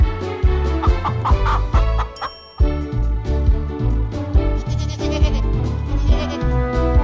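A goat at the Bac-bacarra Festival in Bacarra, Ilocos Norte bleats again and again in loud, close, wavering calls, with a brief pause partway through.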